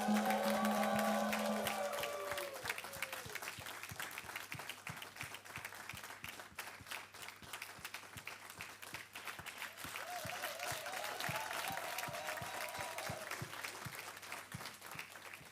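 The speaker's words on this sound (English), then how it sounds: "make some noise and cheer for all the volunteers" An audience at a 15th anniversary gathering claps and cheers for volunteers. Loud whoops and shouts ride over the start, then steady applause continues with scattered individual claps and another brief cheer partway through.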